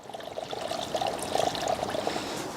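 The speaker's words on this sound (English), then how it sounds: "we'll add about a litre of just neat coolant, followed by around a litre of neat distilled water." Liquid coolant pouring through a funnel into a BMW N62 V8 cooling system, a close, steady gurgling trickle with bubbling glugs that carries on throughout.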